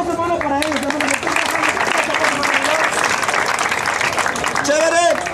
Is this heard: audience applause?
yes